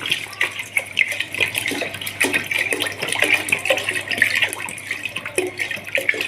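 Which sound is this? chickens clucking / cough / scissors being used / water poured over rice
water poured over rice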